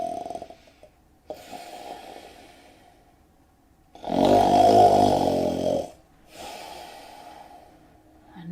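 Loud snoring from a wolf in a spoken Little Red Riding Hood story: rasping snorts in slow breaths, a faint one, a heavier drawn-out rumble in the middle, then quieter breathing, likely a voice imitating the snore.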